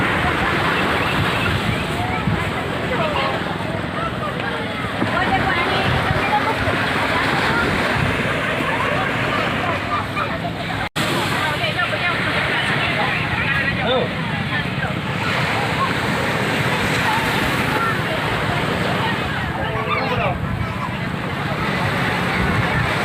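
Sea waves and wind at Peudawa beach make a steady, loud, broadband roar for the whole stretch, with faint voices mixed in at moments.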